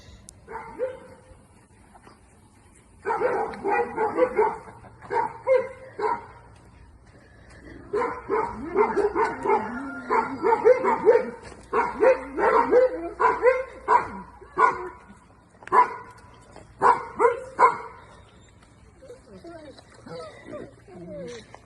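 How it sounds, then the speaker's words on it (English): A neighbor's dog near chickens barks repeatedly in quick bursts with some yips and whimpers, fairly close, while a person talks intermittently. "HOA neighbor's dog was just over here by my chickens."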